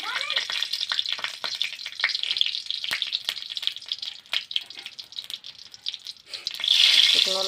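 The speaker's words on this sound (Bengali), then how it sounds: "শুকনো লঙ্কাটা একটু ভেজে নিই।" Dried red chillies fry in hot oil in a wok, crackling with dense rapid pops and rattles, close and fairly loud, swelling into a louder hissing sizzle near the end.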